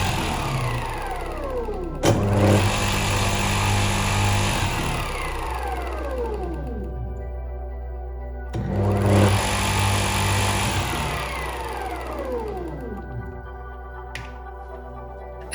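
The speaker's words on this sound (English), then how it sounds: "if we connect it to the main power, it turns on as any motor would" A 220-volt mains electric motor spinning up twice, each start a sharp onset into a steady loud whir with sweeping pitch changes as it runs and winds down, with a constant low hum underneath.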